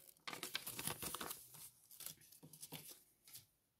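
A purple perforated paper packet being torn open by hand, close crinkling and ripping in several short bursts with brief pauses, fairly quiet, no voice.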